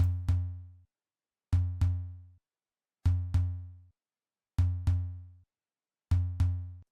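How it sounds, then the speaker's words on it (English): Drum-machine tom sample from a Roland 808 kit in a soca beat, struck as five evenly spaced pairs of quick double hits. Each hit is deep and boomy with a short decaying tail, clean and isolated. "this tom is actually from a 808 and a 909 kit"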